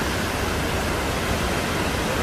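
Cameron Falls in Waterton pours in a steady, dense broadband roar, a loud continuous rush of falling water with no voices over it.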